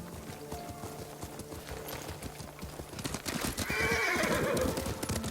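A horse neighs and its hooves clip-clop at a steady trot while being ridden in a video game, with ambient outdoor sound that swells louder toward the end.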